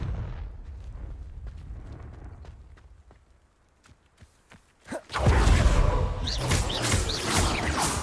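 A Confringo spell explosion in Hogwarts Legacy: a low rumble fades, sparse clicks and thumps follow, then a sudden loud fiery blast that roars on as a sustained crackling wash.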